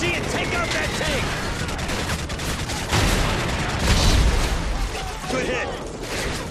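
A video-game battle against a dug-in T-90 tank, with continuous loud gunfire and machine-gun bursts, heavy booms and explosions under shouted voices, giving a dense, chaotic combat din throughout.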